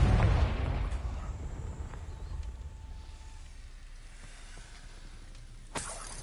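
A Confringo blasting spell in a wizarding video game, one loud explosive boom that opens the moment and then rumbles away into a long, quiet fading tail, followed by a faint sharp burst near the end.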